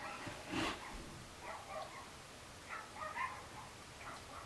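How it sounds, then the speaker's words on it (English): A dog barks a few times at a distance outdoors during an airsoft game, short faint yips and woofs spread across the quiet background. "Here, dog's barking."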